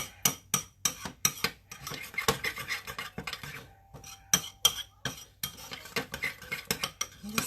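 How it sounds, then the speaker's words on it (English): Keto microwave bread batter stirred with a utensil, giving close, rhythmic scraping and rubbing strokes against the container, repeated steadily with no talk. "Just mix it all, incorporate it all together."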